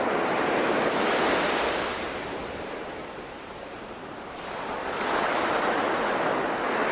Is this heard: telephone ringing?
no